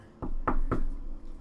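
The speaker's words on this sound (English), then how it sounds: "You knock on the door." Three firm knocks on a door in quick succession, close and fairly loud, with a short pause after the first and no voices over them.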